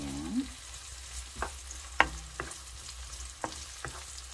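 Garlic frying in a pan for a Filipino sautéed vegetable dish, a quiet sizzle broken by a few sharp stirring clinks and scrapes, close by, with no voices.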